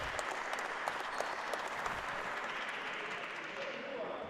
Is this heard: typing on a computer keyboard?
no